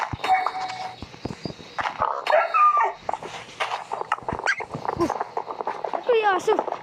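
A dog in the Minecraft video game, played in a one-block skyblock world, gives short barks and whines. Excited players talk over the game sounds throughout.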